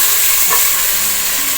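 Beef pieces fry in a pot with a loud, dense, continuous sizzle heard up close for a brief moment, no voices present.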